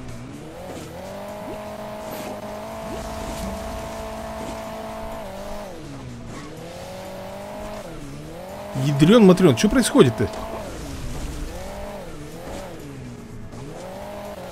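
A car climbing hills in the mobile game Hill Climb Racing 2: an engine whining, revving and bogging, with brief tyre screeches and a clattering crash burst near the middle. Someone talks over it now and then.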